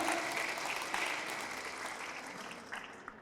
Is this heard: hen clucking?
no